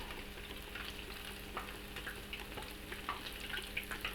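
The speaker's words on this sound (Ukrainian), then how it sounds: "В добре розігріту олію викладаю пампухи." Steady crackling and bubbling of cheese dumplings frying in well-heated oil, a continuous close sizzle with small pops scattered throughout; no talking.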